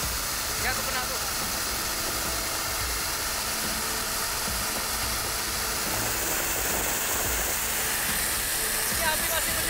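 A water cannon sprays onto a fire aboard a ship during a coast guard firefighting drill, giving a loud, steady broadband rush of water and hiss with engine rumble beneath, continuous throughout.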